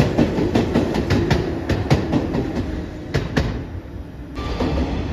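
A JR West 115 series suburban electric train on the Sanyo Main Line at Okayama rolls past nearby, its wheels clacking rhythmically over rail joints against a steady rumbling roar.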